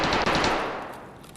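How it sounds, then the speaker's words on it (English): Rapid automatic gunfire from a video game firefight, a loud dense burst of shots that fades over a second or so, with no talk over it. "I'm gonna run towards that gunfire."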